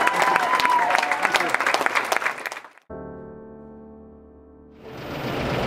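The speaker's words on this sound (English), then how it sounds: "let's give her another round of applause." Applause at a youth bowling event, a burst of crowd clapping that cuts off abruptly, followed by a brief sustained tonal hum before a wash of noise returns.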